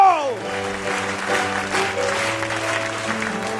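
A church congregation applauds and acclaims during a worship sermon, with continuous dense clapping mixed with cheering voices and a tonal sound fading at the start.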